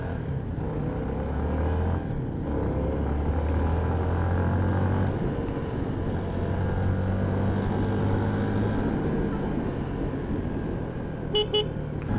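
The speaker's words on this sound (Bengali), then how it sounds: "সবগুলো বাইক এখন আবার ব্রেকফাস্ট শেষ করে আবার রওনা দিচ্ছে।" A group of about 35 motorbikes on a day tour to Sitakunda sets off together, making a steady, loud rumble of engines and traffic noise, with a short horn toot near the end.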